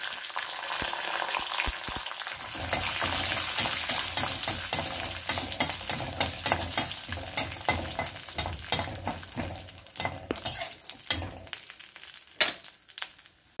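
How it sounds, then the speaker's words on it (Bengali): Cashews and raisins hit hot oil with whole garam masala spices for a banana flower moti pulao, setting off a loud, steady sizzle overlaid by quick rhythmic scrapes and taps of a spoon stirring in the pan. "এবারে কাজু আর কিশমিশটা দিয়ে দেবো।"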